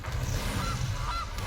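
A cartoonish goose honk from the Gilded Goose card in Magic: The Gathering Arena, played in Historic format. A couple of short honks ring out over a dense, steady wash of game background sound.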